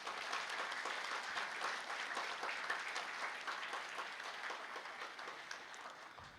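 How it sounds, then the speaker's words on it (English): A hall full of people gives a long, steady round of applause for a children's heart hospital team at an anniversary celebration, dense clapping that gently tapers near the end. "I'd like everyone to give each and every member of that team a round of applause"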